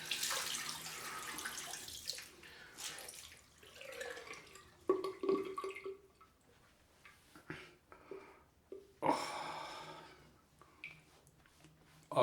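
Cold tap water runs and splashes irregularly as a man rinses his head at a sink, with soft gurgling, intermittent louder gushes and drips, and quiet breathy sounds between.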